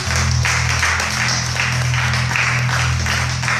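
A church congregation applauds together in steady, continuous clapping that fills the room, with a low sustained organ or keyboard tone underneath.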